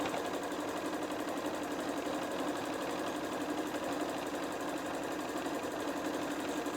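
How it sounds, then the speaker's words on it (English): A domestic sewing machine runs a long seam along a fabric book cover project, a fast, even, low-level mechanical whir with a steady stitching rhythm that carries on unbroken without pauses or talk. "just sew this time along the full length of that project"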